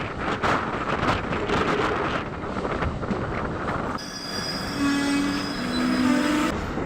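A MEMU Express passenger train runs past a railway station between Nellore and Sullurpeta. Loud wheel rumble and clatter give way to high squealing wheels and a horn, with wind buffeting the microphone.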